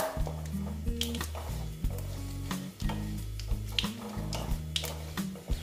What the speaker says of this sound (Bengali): এটাকে আমি ভালো মতন ভেজে নিচ্ছি